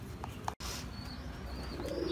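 A pigeon sick with pox coos softly close by, a brief low murmur at the end under a constant hiss of room noise, with no one speaking.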